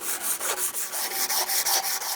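A stainless and titanium utility blade is rubbed with 120 grit sandpaper in quick, even back-and-forth strokes, about ten rasping passes in steady rhythm, close and alone.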